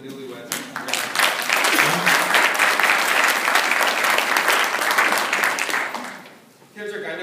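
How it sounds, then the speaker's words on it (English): Audience applauding newlyweds at an Army battalion ceremony, a sustained loud round of clapping that swells and holds for several seconds, then fades as a voice resumes at the end. "So let's give the newlyweds a round of applause"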